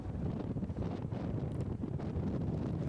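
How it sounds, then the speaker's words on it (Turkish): Strong wind at an outdoor football match buffets the microphone in a steady, heavy rumble with gusty surges throughout. "Rüzgar o kadar güçlü ki ayakta duramıyor"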